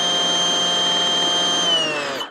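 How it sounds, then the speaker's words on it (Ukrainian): A GTM CS56/1800BL 56V cordless chainsaw runs with a steady, loud electric whine that holds constant and then spins down at the end. "Вмикаємо нашу пилку."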